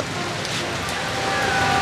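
Heavy rain comes down outdoors in a dense, steady hiss that stays loud and unbroken for a couple of seconds, with no voices.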